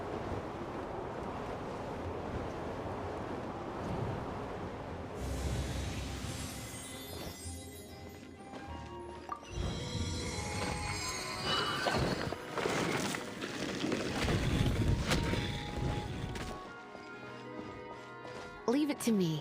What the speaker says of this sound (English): Let's ride this wind current